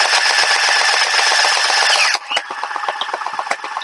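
A MINOSNEO AKM47 gel ball blaster fires in rapid automatic bursts, loud and close, giving a continuous buzzing rattle that then breaks into separate quick snapping shots.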